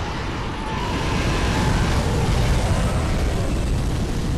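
A dragon breathing fire in Dark Souls 3, a loud continuous roaring rush of flame that fills the whole stretch without pause, dense and close.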